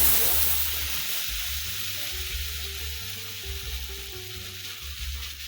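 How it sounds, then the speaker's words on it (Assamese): Spice paste of garlic, ginger and a few peppercorns frying in hot oil, a steady close sizzle and crackle that runs without a break. "এয়া মোৰ তেলটো হৈ গৈছে গৰম, আৰু ইয়াত এইখিনি মই পেষ্টখিনি কৰি ল'লোঁ ধুনীয়াকৈ"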